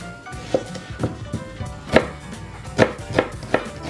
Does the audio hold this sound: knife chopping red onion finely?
yes